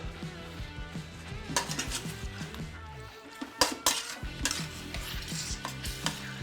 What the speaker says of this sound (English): We want to toss in our scallions.